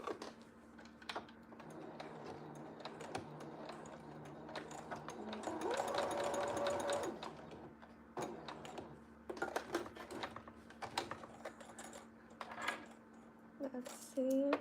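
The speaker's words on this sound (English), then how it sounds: "I'm going to now remove the pin and then backstitch again." Sewing machine backstitching while replacing an elastic band, a steady soft mechanical whir with rapid needle ticks, swelling louder mid-way and then pausing into scattered handling clicks.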